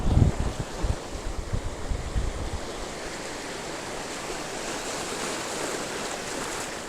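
Ocean waves breaking on the shore during shore casting, a steady broad rush of surf and wind, with heavier low rumbling churn in the first seconds that settles into a continuous hiss.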